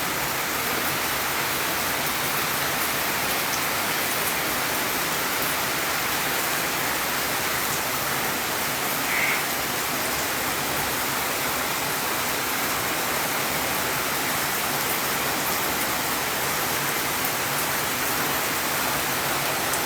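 Rain falls steadily on Mount Salak as a dense, loud, even hiss that keeps on without a break, no voices.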